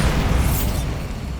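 A Bombarda explosion spell goes off in Hogwarts Legacy, a loud, broad blast with a deep rumbling body that decays over about a second, with no talk.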